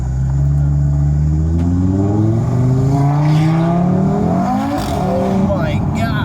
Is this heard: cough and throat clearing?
no